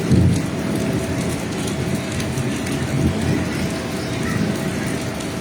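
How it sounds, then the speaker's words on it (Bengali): Heavy rain pours steadily in a dense, loud, continuous roar of drops on surfaces, unbroken across the whole stretch with no voices. "বৃষ্টির শব্দটা বেড়ে গেল"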